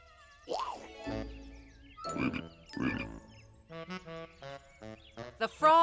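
A cartoon frog croaks in a children's animation, several separate croaks followed by a quicker rhythmic run of croaking, clear and close with light chimes near the end.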